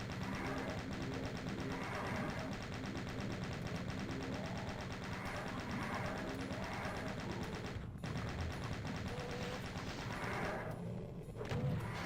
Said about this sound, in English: Going to use the chain gun to mow down these enemies.